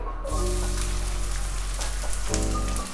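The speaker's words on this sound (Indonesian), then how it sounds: "Ya, minyaknya udah panas. Kita masukin bawang bombay" Onions dropped into hot oil already used for frying tofu, bursting into a loud, steady sizzle that crackles continuously close up, with cooking noise underneath and no talking.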